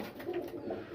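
Andhra and Malwai pigeons coo softly and continuously inside a loft, a low throaty murmur with gentle pulses, faint and steady with no speech.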